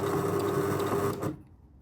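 A sewing machine stitches a shirt cuff seam with a dense, steady whirring run for just over a second, then stops abruptly into near silence.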